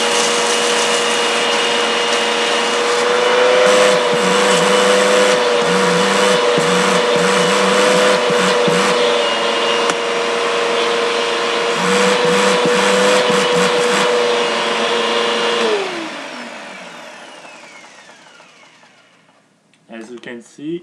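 A Bissell upright vacuum cleaner runs loudly with hose suction and no attachment, a steady roaring whine for about fifteen seconds that then winds down as the motor switches off, followed by a few faint clicks.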